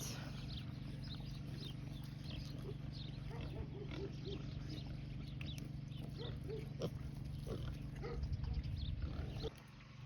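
Many pigs on an off-grid homestead grunt and squeal in a busy chorus over a steady low hum, with a louder burst of rustling and snorting near the end.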